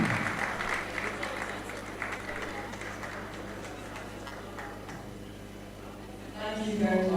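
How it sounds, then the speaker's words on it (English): An audience at a Nigerian film festival event claps for several seconds, a broad, even patter of many hands that gradually thins out before a voice comes back in near the end. "A round of applause."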